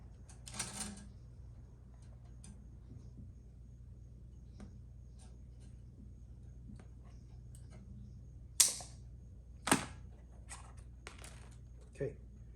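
Sharp clicks of wire cutters snipping a steel string on a Taylor Mini GS acoustic guitar, a few isolated snaps spaced seconds apart over a faint background.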